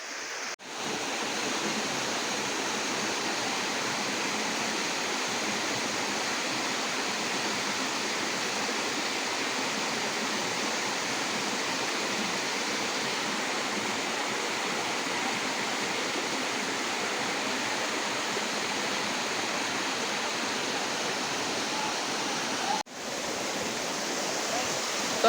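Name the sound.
waterfall flowing over rocks, Ratanmahal wildlife sanctuary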